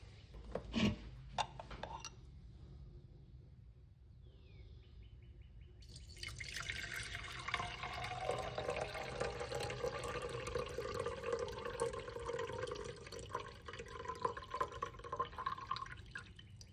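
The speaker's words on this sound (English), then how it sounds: "I'm going to strain it just to see if anything comes off in the strainer" Palo azul drink poured through a kitchen strainer: after a few soft knocks and quiet handling, a continuous splashing trickle of liquid starts and runs steadily to the end, close and moderately loud, with no voices.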